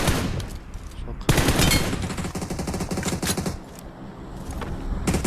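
Rapid automatic gunfire in PUBG Mobile, bursts of close-range shots that break in loudly and repeat in quick rattling runs, with players talking over the shooting.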